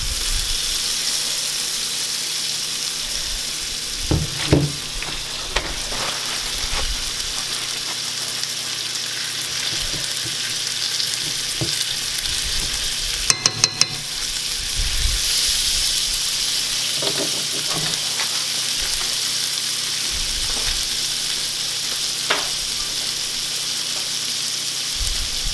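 Butter and food frying in a non-stick pan, a steady loud sizzle throughout with occasional clinks and scraping from stirring, close up and without talk.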